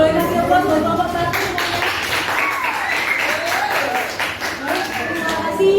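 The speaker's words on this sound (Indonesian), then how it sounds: "Boleh kasih aplaus buat kelompok 1." Applause rises from a junior high classroom in Surabaya, Indonesia, as students clap for the first group after its presentation. Steady, dense clapping fills the room for several seconds, with voices talking over it.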